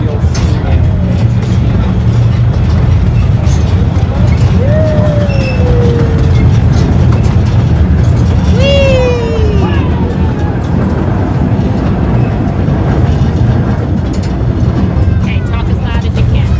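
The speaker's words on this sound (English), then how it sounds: "That's a real steam engine." A real steam locomotive rumbles nearby in a continuous heavy drone, with two short descending whistle-like tones sounding partway through while people talk over it.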